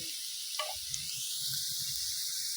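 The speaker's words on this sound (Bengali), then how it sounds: "দেব কাঁঠালের দানাগুলো হালকা করে ভেজে নেব একদম হালকা" Jackfruit seeds fry lightly in a pan with a steady, close sizzling hiss that runs the whole time, with a faint low clatter underneath.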